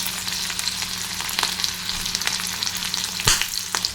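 Dried red chilies, green chilies and ginger fry in hot oil in a pan, giving a loud, steady sizzle with occasional stirring scrapes and one sharp clatter.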